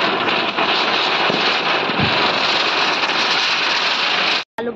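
A chakri ground spinner firework set off during Diwali celebrations in Guwahati gives a steady, loud hissing rush for over four seconds, then cuts off abruptly.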